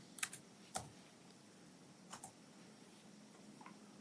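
Keystrokes on a computer keyboard while code is typed, a few sparse, quiet clicks in small bursts with pauses between them, faint and close against a low background hum.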